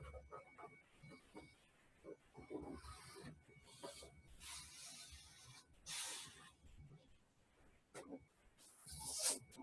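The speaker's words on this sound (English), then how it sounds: "We're going to shuffle the cards inside the balloon." Playing cards shuffled inside a balloon, heard as bursts of muffled riffling and rubbing with quiet gaps between, close and fairly soft.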